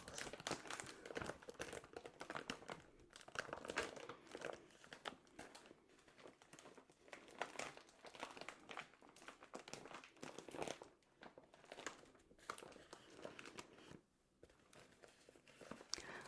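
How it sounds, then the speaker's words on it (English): Deep, dense crinkling of packaging material, plastic and paper wrappers crumpled and squeezed close up in continuous busy bursts with brief pauses, no talking. "I love deep crinkles."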